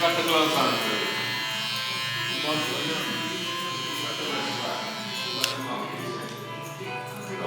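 Electric barber hair clippers buzz continuously at close range with a steady, harmonic-rich hum, while a voice talks over the sound.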